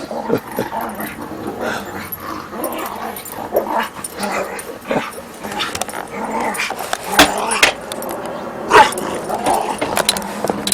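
Several dogs play together, mixing growls, short barks, yips and whimpers in uneven bursts at close range, with no one talking over them.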